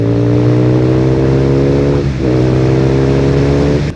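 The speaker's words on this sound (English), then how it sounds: "But considering this is also a BMW 1200cc boxer engine, the difference is just night and day." A BMW R nineT motorcycle with a 1200cc boxer engine revving hard, loud and close, holding a high steady pitch with a brief dip midway before climbing again.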